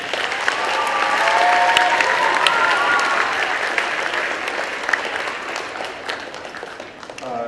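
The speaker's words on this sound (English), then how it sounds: "I think Ray, in general, deserves a round of applause" Sustained applause from an audience at an outdoor Veterans Day ceremony, honoring a program organizer; steady clapping from a sizable crowd that swells early and holds throughout before tapering near the end.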